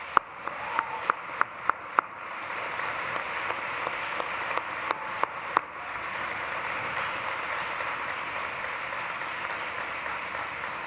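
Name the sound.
commencement audience applauding the faculty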